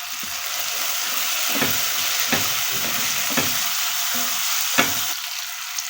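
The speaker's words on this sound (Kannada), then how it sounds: "ಮೊಳಕೆ ಕಡಿಸಿರುವಂತಹ ಬಟಾಣಿಯನ್ನು ಆ್ಯಡ್ ಮಾಡ್ಕೋತಾ ಇದ್ದೀನಿ" Sprouted peas are stirred into a hot, sizzling pan for avarekalu (hyacinth bean) upma, with steady frying crackle and several distinct scraping strokes of a spoon against the pan, close and clear, with no talking.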